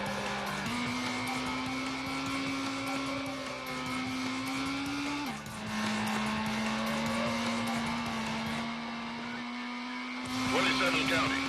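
Racing engine whine from the Need for Speed video game running on a Pentium 150MHz PC, a steady tone shifting pitch as the car cruises at high speed, with police radio chatter and talk over it.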